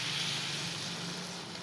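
Water added to a hot cooking pan during home cooking gives a steady, fairly loud sizzling hiss that continues evenly throughout, with no talking.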